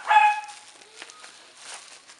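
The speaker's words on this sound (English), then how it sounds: "And the dogs are going off." A small dog gives a sharp bark, followed by faint scuffling and softer yips in the background.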